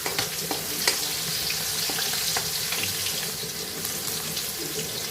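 Dry red chillies and asafoetida fry in hot oil for a spinach and moong dal dish, a dense close sizzle with small crackles and pops running steadily throughout.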